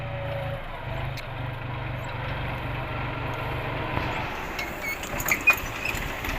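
A New Holland TT45 tractor with a 47-horsepower three-cylinder engine idles steadily outdoors, a low even drone running throughout, with a few louder knocks and clatters near the end.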